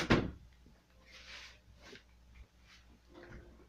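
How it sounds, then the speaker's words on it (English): A wooden door closing in Minecraft: one sharp clack right at the start, followed by quieter scattered game noises and faint shuffling at a low level. "Alright, close the door and get in here."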